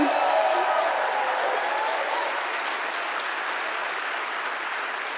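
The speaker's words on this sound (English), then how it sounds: "Let's give her one more round of applause." A live audience at an Ignite Seattle talk night applauds a speaker, sustained clapping that starts full and slowly thins out over a few seconds, with no talk over it.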